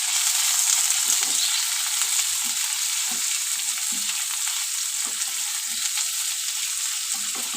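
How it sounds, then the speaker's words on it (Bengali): A large chopped onion and diced potato frying in oil make a loud, continuous close sizzle with faint soft stirring taps throughout and no talking. "পেঁয়াজটা একটু হালকা ভাজা হবে।"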